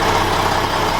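An old Lancia Esadelta truck's engine running at a steady idle, an even low rumble with a mid-range drone, close and continuous with no voices.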